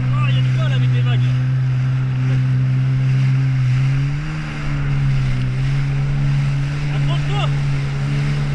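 A jet ski engine drones loud and steady while riding over sea waves near Ajaccio, Corsica, dipping briefly midway then surging again, with wind and water noise and a voice talking over it.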